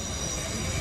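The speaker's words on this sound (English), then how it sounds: "Sorry about the noise, you can hear that, man. That's just train." A train passes close by, producing a loud, steady roar of rolling wheels and rail noise that fills the whole moment without letup.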